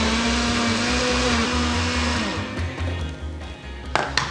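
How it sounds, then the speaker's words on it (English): A blender purees tomatoes for homemade sauce with a loud, steady motor whir that winds down after about two seconds, followed by softer rattling and a couple of faint knocks. "I'm gonna reserve my chopped tomatoes for later and puree the rest."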